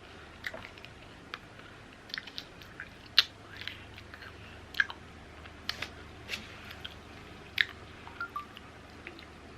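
Hard coffee-flavoured candy being chewed and bitten, with crisp crunchy cracks scattered irregularly over steady close-up mouth noise, loudest in a few sharp bites, no talking.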